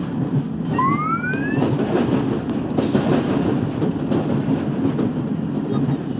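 A London Underground Jubilee Line train in the OpenBVE railway simulator runs along an outdoor section with a steady, loud rumble and clatter throughout, and a brief rising tonal whine near the start.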